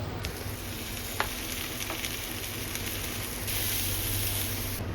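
Tomatoes frying with onion masala in a pan for mushroom butter masala, a steady sizzling hiss throughout with a few faint stirring knocks, growing slightly louder near the end, no voices.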